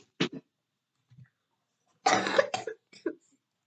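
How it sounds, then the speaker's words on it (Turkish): A person coughs several times close by: a quick double cough, a pause, then a harsher cluster of coughs with short gasps between. "Hala öksürüyorum ama olsun"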